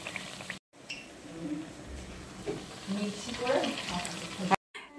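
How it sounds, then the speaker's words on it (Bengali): Banana kofta fritters fry in hot oil, a low bubbling sizzle with scattered crackles and clatters as they are turned one by one, the sound briefly cutting out at the start and end. "এই ভাজার আওয়াজটাই তোমরা শুনবে"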